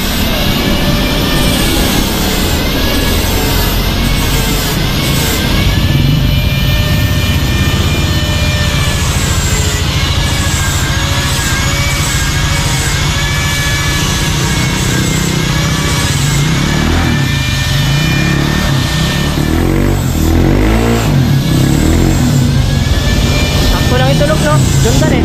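Honda Click 125i v3 scooter with a modified stock exhaust pipe idles and revs, a loud, continuous buzzing engine drone that rises and falls close by, with a person talking over it.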